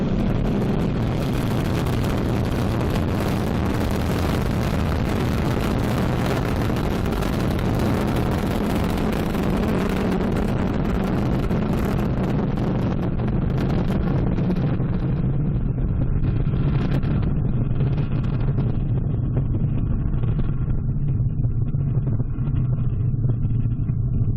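Ariane 5 rocket engines roar at the BepiColombo launch, a loud, sustained broadband thunder with crackle that stays dense throughout, the highest tones fading toward the end as the rocket climbs away.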